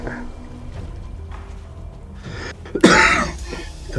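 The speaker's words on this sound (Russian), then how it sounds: "кашлять по-хорошему нечем" A man coughs and clears his throat while gaming: a few faint throaty sounds, then one louder, harsh cough burst near the end, with quiet game sounds beneath.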